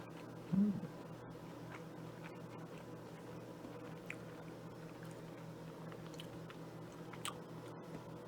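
Quiet, close chewing of a snickerdoodle cookie with a graham cracker coating and chocolate-hazelnut filling, soft mouth sounds at a low level in a calm room.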